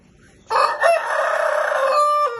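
A rooster crows loudly and close by, one long drawn-out call with a few clucking notes at the start.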